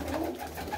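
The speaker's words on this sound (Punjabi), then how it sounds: "ਬਾਈ ਇਹ ਉਹ ਕਬੂਤਰ ਨੇ ਫੌਜੀ ਧਮੋਟ ਵਾਲੇ ਜਿਹੜੇ ਕਹਿੰਦੇ ਕਿ ਬੀਹੀ ਪਾਰ ਨਹੀਂ ਕਰਦੇ।" A short, low coo from a Shah Akhi breed pigeon, soft and close, heard alone without speech.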